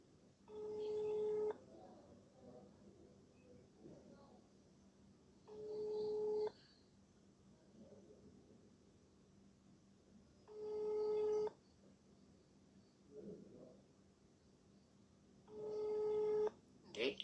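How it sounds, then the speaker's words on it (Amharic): A call to a restaurant number rings out unanswered, with four evenly spaced ringback tones about five seconds apart and quiet gaps between them. "የሬስቶራንት ቁጥር ነው። እንዴት ነው የማያነሱት በዚህ ሰዓት?"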